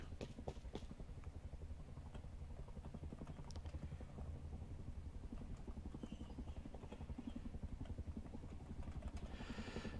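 Attack helicopter in the Rust video game, a steady rhythmic rotor thump chopping throughout at moderate distance, fairly faint and unbroken with no talk over it.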